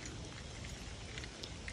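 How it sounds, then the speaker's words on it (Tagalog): Heavy rain pours around a person walking in a raincoat through a park, a dense, constant patter with a few sharper drops striking close by, fairly quiet overall and without voices. "grabe, ang lakas ng ulan"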